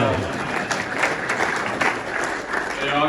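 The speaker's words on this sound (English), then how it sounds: "you can give her a round of applause" A crowd applauds at an awards event honoring Kansas City Royals players, with a broad, steady patter of clapping throughout. Voices murmur underneath, and the clapping swells slightly in places.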